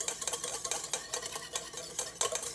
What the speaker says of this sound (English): now I am going to add my lemon juice to my pectin. And I am just going to give that a really nice stir.